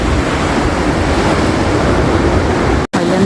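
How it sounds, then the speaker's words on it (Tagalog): Strong rushing river water flowing beneath a bridge on a cold day, a loud, steady broadband roar that continues without a break and sounds close by. "Ang lakas ng daloy ng tubig."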